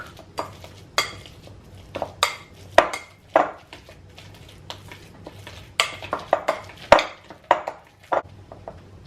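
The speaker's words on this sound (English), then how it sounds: "I mash it out with the potato masher" Ripe bananas mashed with a potato masher for peanut banana bread, giving soft squishy presses and sharp clinks of the masher striking the bowl in an irregular rhythm, close and fairly quiet.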